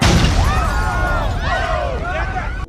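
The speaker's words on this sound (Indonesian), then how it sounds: "ledakan pun terjadi" Bomb explosion in a film, a loud, dense roar with rumbling low end and crackling, swirling debris tones that sustain throughout before cutting off abruptly at the end.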